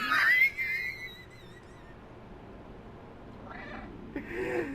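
A cat meows in the video game Stray, with a long, clear meow at the start and two shorter cries later, close and loud over a quiet background.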